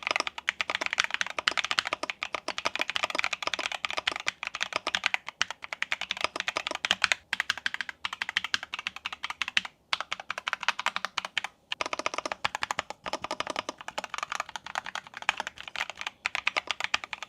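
Typing on a Keychron Q14 Max southpaw keyboard with banana yellow switches, fast close-up bursts of crisp key clacks with brief pauses between runs, alone with no voice.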